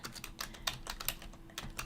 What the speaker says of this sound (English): you guys hear me furiously typing away